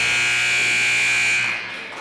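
A basketball scoreboard buzzer sounds at halftime of an eighth-grade boys' game, a loud, sustained electronic tone holding steadily for about a second and a half before fading under gym noise.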